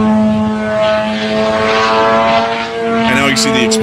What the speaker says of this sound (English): There's the drone and the impact.